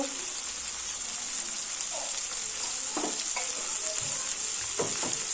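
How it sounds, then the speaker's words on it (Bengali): Spices sizzle and fry with a katla fish head in oil while cooking muri ghonto, a steady close hiss with occasional stirring scrapes throughout. "এর মধ্যে একটু ধনের গুঁড়ো দিয়ে দেবো"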